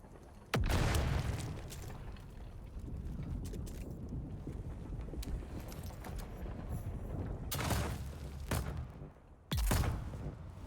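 A grenade detonation in the Dune: Awakening video game, with sharp heavy booms near the start and again near the end over a busy background of game noise.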